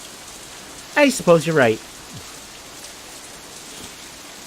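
Steady rain patters down in a storm scene of a visual novel, a soft continuous hiss of drops beneath a short line of spoken dialogue.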